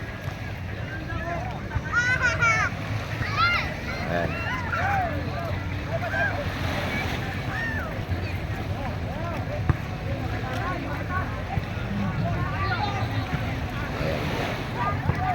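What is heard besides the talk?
boat bringing passengers across the water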